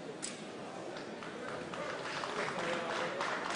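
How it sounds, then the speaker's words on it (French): Audience applause at a French windshield replacement championship final, a sustained wash of clapping that builds slightly over a few seconds, mixed with murmuring from the crowd in a large hall. "Ah, des applaudissements, ça veut dire que Jérémy a fini son calibrage"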